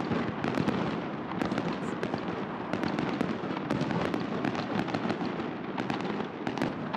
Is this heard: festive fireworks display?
yes